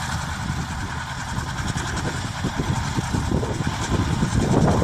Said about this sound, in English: It's a great mower for something so old-fashioned, huh?